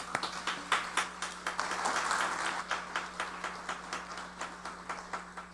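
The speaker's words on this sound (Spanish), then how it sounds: "Demos la bienvenida a nuestros participantes con un fuerte aplauso." Audience at a legal panel event on pluralism giving a welcoming round of applause, irregular claps spread through a hall at moderate distance, fading toward sparse claps.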